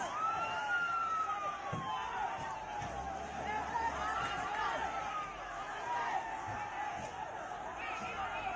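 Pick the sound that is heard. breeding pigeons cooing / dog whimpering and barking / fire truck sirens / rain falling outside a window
fire truck sirens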